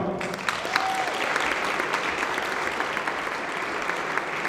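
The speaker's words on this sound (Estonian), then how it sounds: "Et suur aplaus nendele ka." An audience at a wind orchestra tournament's awards ceremony applauds the bus drivers, steady dense clapping from a crowd with a faint voice briefly audible underneath.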